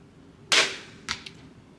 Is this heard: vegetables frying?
no